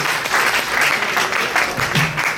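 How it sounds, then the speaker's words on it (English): Steady applause from an audience at a tribute concert, a dense wash of clapping that holds at the same level for a few seconds without pause. "Please make some loud applause"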